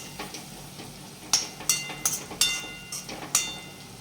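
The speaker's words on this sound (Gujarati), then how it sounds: "આ રીતે હલાવો" Pasta is stirred in a pan with a spoon, making a series of clicking scrapes and taps against the pan over a faint background sizzle.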